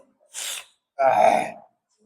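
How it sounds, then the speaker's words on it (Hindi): A sharp intake of breath is followed by a stifled sneeze attempt, heard as a louder, muffled burst held back rather than fully released. Both sounds are close and alone, with no talking. "आती है छींक लेकिन अंदर ही अंदर चली जाती है, बाहर नहीं निकल रही है"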